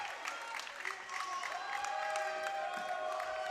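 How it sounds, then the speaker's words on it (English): Gym crowd at a varsity volleyball senior night, Belen Jesuit against Terra, claps and cheers loudly at match point, a continuous roar of applause with whistles or shrill tones ringing through it. "The crowd is hyped."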